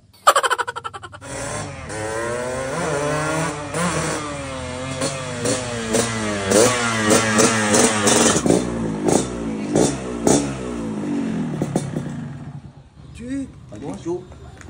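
A motorcycle engine revs close and loud in a Sundanese comedy sketch, climbing and falling in repeated pitch sweeps for about ten seconds before cutting off.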